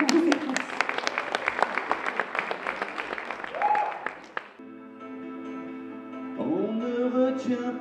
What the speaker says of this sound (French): Ah, bah non, sous vos applaudissements plutôt.